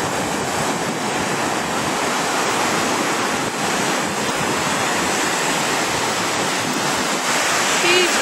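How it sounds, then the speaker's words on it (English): Loud, continuous roar of ocean surf in Portugal, huge waves crashing and churning close by with a dense wash of noise and wind. "Huge big waves."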